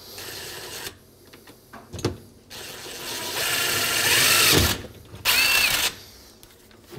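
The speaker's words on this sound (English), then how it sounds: "So we're going to drill out this hole and then add a screw." A power drill drills out a hole in a dishwasher being installed, whirring in several bursts, loud and close, with short pauses and clicks between runs and no talking.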